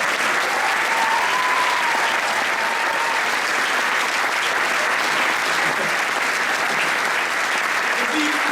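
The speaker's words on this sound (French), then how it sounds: "j'aimerais bien que vous applaudissiez très fort mon ami" Audience applause at a theatre show, a sustained, even roar of many hands clapping that carries on steadily throughout, with faint voices briefly audible within it.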